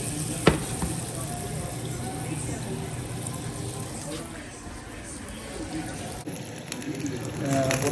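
Food for New Orleans gumbo sizzles in a hot pan as a steady, soft frying hiss under a voice, with a brief clink near the start.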